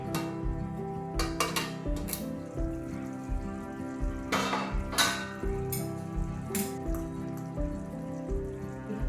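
Clinks and clatters of dishware and utensils as a covered dish of potatoes is opened, scattered metallic taps and knocks over a steady low hum, close and moderately quiet.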